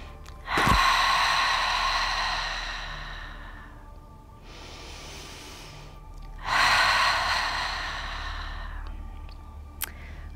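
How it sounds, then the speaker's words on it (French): Yoga ocean breathing with a slightly constricted throat: two long, close, hissing inhales and exhales, each a loud rush fading slowly like a wave, with a quieter breath between them and no talk. "en bloquant la gorge juste légèrement. Et comme ça, la respiration devient un son. Un peu comme le son des vagues de l'océan."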